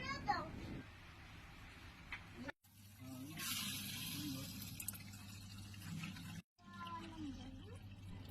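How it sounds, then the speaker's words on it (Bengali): Water is added to lentils in a pot for boiling, a soft pouring and splashing rush heard under voices, including a child's, with short pauses in between. "ডালে আর কি অল্প পরিমাণে পানি দিচ্ছে"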